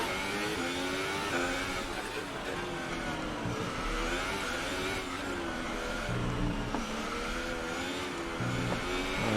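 A Formula 1 race car engine in F1 2018 on the Baku circuit drones loudly and continuously, pitch rising and dropping through gear changes and revs with no talking.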